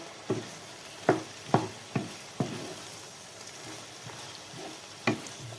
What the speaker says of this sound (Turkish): Böyle iyice bir karıştıralım arkadaşlar.